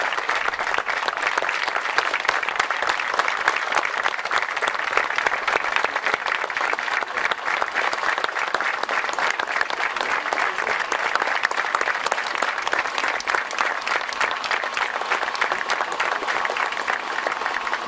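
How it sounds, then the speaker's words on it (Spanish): Audience at a memorial tribute event at a railway station giving sustained, even applause for flag bearers of a dance troupe opening the ceremony, a long unbroken wash of clapping with no break. "Un aplauso para ellos abriendo este acto."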